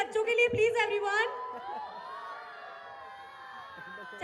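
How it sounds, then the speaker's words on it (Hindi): Crowd hooting and cheering for children at a sangeet celebration at Raj Resort in Balotra, Rajasthan: a quick burst of whoops and shouts that fades into a lingering tonal hum. "एक बार हूटिंग तो हो जाए बच्चों के लिए प्लीज एवरीवन"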